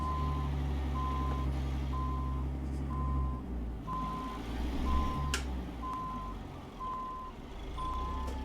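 Reversing alarm of a semi truck backing up in American Truck Simulator, an evenly spaced series of about nine loud beeps over a low diesel engine rumble, no talking.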